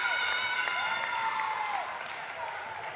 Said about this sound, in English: Seems like Cornerstone is cheering for Carver